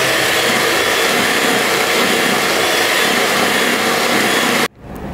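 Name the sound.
beating butter cream with cocoa powder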